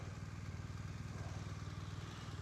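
A BMW R1200RS motorcycle engine runs steadily at a low, even idle, a faint continuous rumble with a regular low throb and no voices.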